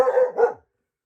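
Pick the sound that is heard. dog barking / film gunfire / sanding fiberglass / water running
dog barking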